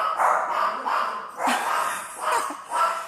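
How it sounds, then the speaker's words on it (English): Dogs indoors in a house with three dogs bark in a run of about five loud, evenly spaced barks close by, alone with no talking. "there will be animal barkings."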